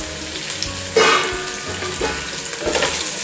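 Five onions sautéing in a pan for chicken biryani give a steady near sizzle, with a louder surge as they are stirred and a few soft scraping knocks.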